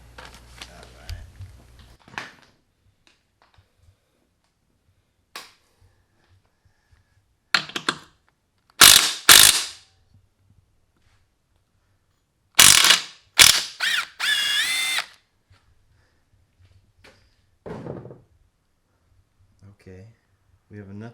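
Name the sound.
socket wrench ratcheting during Honda CR125 motor removal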